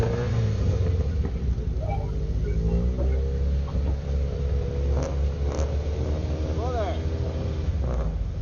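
A Honda S2000 race car, number 95, runs at speed on the Buttonwillow track during a time attack session, its engine a steady loud drone with rising and falling revs while a commentator talks over it.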